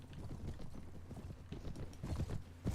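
Horse hooves clip-clop in quick, uneven beats during a Brytenwalda battle, moderately close and continuous over a noisy background.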